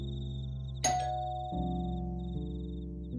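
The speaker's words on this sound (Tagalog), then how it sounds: "Napunta sa tunog ng doorbell ang atensyon namin nang magring yun." A doorbell chimes once with a bright two-tone ding-dong, ringing out clearly over a steady low hum before fading.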